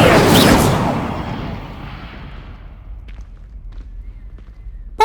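An Incendio fire spell cast in the video game Hogwarts Legacy bursts out as a loud, broad whoosh that fades over about two seconds, followed by faint scattered clicks and a small sharp pop at the end.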